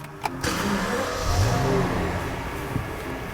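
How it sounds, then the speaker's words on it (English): A 2010 Rolls-Royce Ghost with a V12 engine starts at the push of a button: a brief catch, then a smooth, quiet, steady rumble settling into idle, heard up close with no talk. "just to fire up the V12, I just put my foot on the brake, hit the start button"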